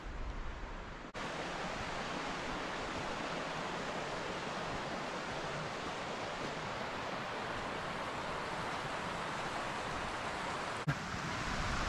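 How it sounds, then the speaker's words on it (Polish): Mountain stream Wilczka on the Main Sudeten Trail in the Śnieżnik massif, flowing as a steady broadband rush of water, close and continuous with no voices. "cały czas przy tym pięknym potoku Wilczki"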